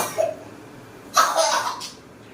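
Two coughs from a nearby person, one short and light, then a longer, harsher burst about a second later, over quiet background noise.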